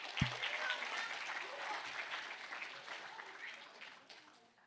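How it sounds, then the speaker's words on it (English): A crowd claps in sustained applause that gradually fades, heard at moderate distance after a brief thump. "Give him a round of applause."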